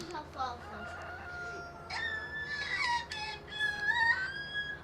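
Chickens in the Farming Simulator 17 video game, with a rooster crowing several times and hens clucking close by, alongside faint speech.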